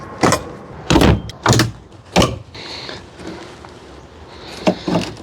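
A Leatherman multitool pries at a scooter's cardboard shipping box, giving several sharp cracks, pops and creaks in uneven bursts close to the listener, followed by quieter scraping and two more snaps near the end.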